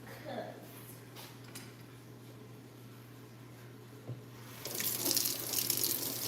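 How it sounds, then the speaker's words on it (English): Tap water runs into a kitchen sink while fruits and vegetables are rinsed, a steady low splashing stream that swells louder near the end. "Wash them fruits and them veggies, y'all."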